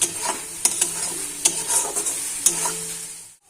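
Onions frying in a pan until browned, a steady bright sizzle broken by several sharp scrapes and clinks of a spoon stirring, close and alone, fading out at the end.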